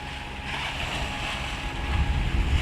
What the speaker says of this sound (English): There's definitely a swell coming in this way from the ocean, but there's also things going this way and things going that way, so we're being rolled and rocked and pitched.